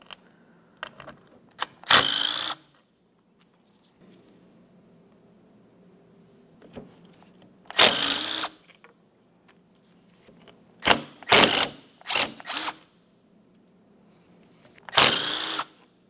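A power tool spins out the four 10mm bolts that hold the fan to the fan clutch on a 2004-2015 Nissan Titan. It comes in several short, loud whirring bursts separated by quiet pauses, over a low steady background hum.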